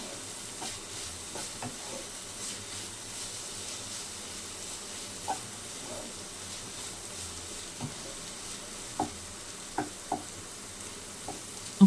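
Vegetables frying in oil in a pan while cooking upma, a low steady sizzle with occasional sharp clicks and stirring knocks, close and alone without talk.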